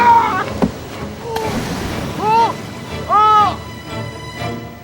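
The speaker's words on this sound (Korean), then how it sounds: "그때 갑자기 거센 파도가 배를 덮치고 맙니다" Strong waves crashing over a boat at sea off Jeju, a loud surging wash with rough churning water, mixed with whining, wavering tonal cries and a few sharp knocks.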